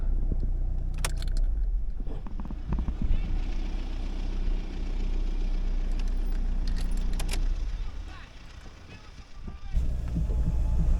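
Tractor with a seeder drilling corn in a field ringed by forest, its steady low engine rumble droning close by, with rattling metallic clinks and brief jangling over the top.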